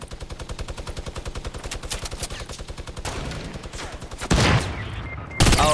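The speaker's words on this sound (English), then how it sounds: "Minigun is ready." A minigun in Fortnite fires a rapid, evenly spaced stream of shots that speeds into a dense roar, followed by louder bursts of gunfire close by.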